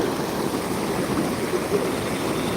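Flood water after overnight rain rushes in a steady, loud broadband roar, continuous and close, with no voices.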